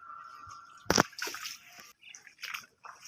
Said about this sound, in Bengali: সব পানি নেমে গেতেছে